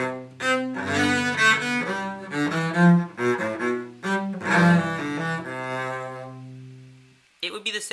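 A bowed cello moves through a slow chord progression, its notes broken up and sustained in a resonant low-to-middle register, playing alone before fading to silence with a brief sound at the end.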